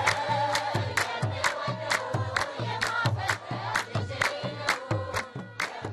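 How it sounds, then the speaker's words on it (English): A crowd of worshippers sings together over steady rhythmic clapping and drumbeats during a Timket procession through packed roads in Gondar, Ethiopia, loud and lively, with a regular pulse throughout. "Drums escort the tablets down the packed roads as worshippers sing and clap along"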